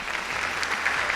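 Conference attendees give a brief burst of applause after a faculty presentation, a short dense patter of clapping in a large room.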